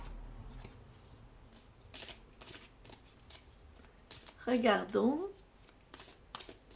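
Oracle cards from a mirror oracle deck get a quick, crisp riffle shuffle close to the microphone in one short burst. A voice speaks briefly nearby.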